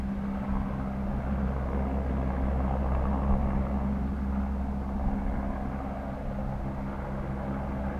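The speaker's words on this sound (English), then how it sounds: "And a bloody helicopter comes on." A low, continuous helicopter rotor drone throbs steadily throughout, moderately loud and unchanging, hovering nearby over a campsite near Haltwhistle.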